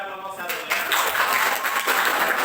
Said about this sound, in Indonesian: Beri aplaus pada kelompok 1 ya